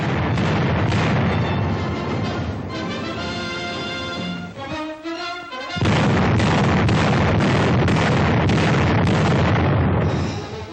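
Heavy gunfire from artillery guns during trial elevation shooting, a dense continuous barrage of booms and bursts with strong low rumble, briefly thinning in the middle before resuming at full loudness.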